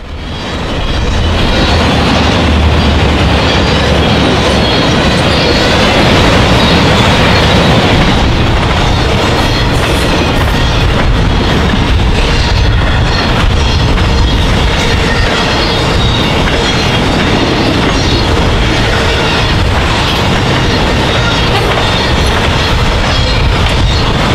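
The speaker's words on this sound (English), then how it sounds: "This UPS train is a priority freight out of Alliance, Texas to Willow Springs, Illinois." A BNSF UPS priority freight train rumbles past continuously at close range in Illinois, a loud steady roar of wheels and cars with faint clatter throughout, no voices.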